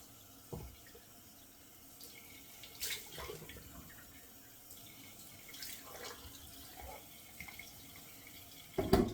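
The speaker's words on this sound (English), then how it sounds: "let me just do 2 splashes in the sink of cold water to close the pores" Cold water in a bathroom sink, a quiet running tap with a few soft splashes spread across the stretch and a louder splash right at the end.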